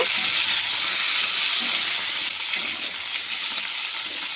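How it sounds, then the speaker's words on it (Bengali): Long-cut sliced potatoes fry in a pan while being stirred, a loud continuous sizzle with soft scraping stirs that eases slightly partway through, close and without voices. "আলুটিকে দিয়ে একটু নেড়ে চেড়ে ভেজে নেব।"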